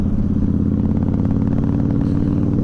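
A 2011 Honda VT1300X Fury cruiser motorcycle engine while riding, a steady, throbbing V-twin drone heard up close with a faint rhythmic clatter and no speech.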